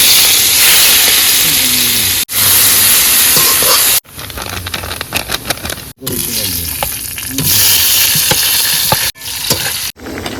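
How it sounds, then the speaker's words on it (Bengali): Onions fry loudly in a hot pan in an outdoor riverside kitchen, a steady, close sizzle and hiss with stirring scrapes, broken by a few abrupt cuts and pauses. "প্রথমে একটু পেঁয়াজটা হালকা করে ভেজে"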